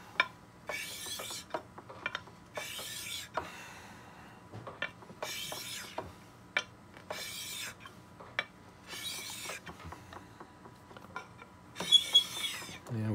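A glass crystal clarinet mouthpiece is rubbed back and forth on sandpaper, making repeated rasping strokes in an even rhythm with small knocks between them, close and moderately loud.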